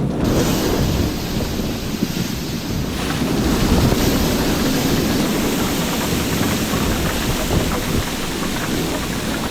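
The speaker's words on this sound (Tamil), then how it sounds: "யாரும் எதிர்பார்க்காத வகையில் அங்கு மழை கொட்டி தீர்த்துள்ளது" Heavy rain pours down in Dubai as a loud, continuous roaring wash with gusty low-end rumble, steady throughout and without any voices.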